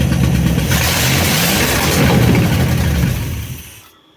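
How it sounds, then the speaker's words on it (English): A loud, close Mopar 318 V8 with a rebuilt Thermoquad carburetor runs at a rough, throbbing, slightly high idle, then cuts off abruptly at the end as the float bowls run dry, leaving near silence. "It's probably idling a little high"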